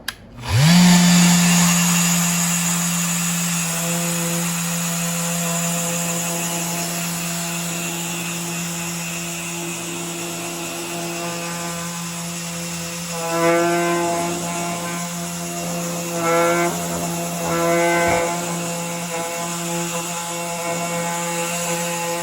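A brand-new power sander fitted with an edge guide works a 45-degree edge. Its motor spins up sharply and holds a loud, steady whine, and the pitch wavers and surges in the later part as it bears down on the wood.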